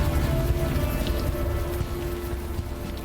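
Rain falling in the video game Unavowed, a steady soft patter with scattered drips over a low ambient hum, no one speaking.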